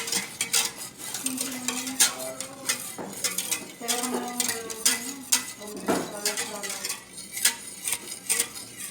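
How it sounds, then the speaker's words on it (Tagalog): Gelatin (gulaman) being stirred in a pot while it comes to a boil for homemade buko pandan, a busy run of metallic scraping, clinks and taps of a utensil against the pot, with faint talk underneath. "Halo-iluin na natin ang ating gulaman para kumulo."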